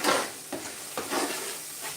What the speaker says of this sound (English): So now we just going to fry the tomato